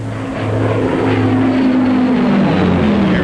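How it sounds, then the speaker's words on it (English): A propeller plane drones loudly and steadily nearby, its engine pitch sliding slightly as it flies past. "a dangerous all-purpose aircraft"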